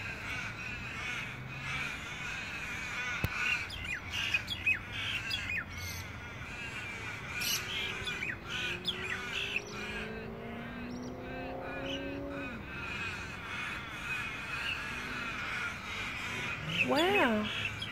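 Crows cawing outdoors after rain, several harsh calls from nearby and farther birds scattered through a steady ambient background, with a louder burst of cawing near the end and a person speaking quietly at moments.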